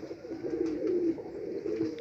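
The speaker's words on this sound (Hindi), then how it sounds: "सामने वाला मेल और पीछे वाली फीमेल है," Soft, low cooing of Highflyer Roller pigeons, a male and female breeding pair, a gentle continuous burble close by, with no talking.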